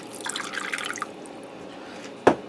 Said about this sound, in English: I'm going to add about a ½ inch of water in there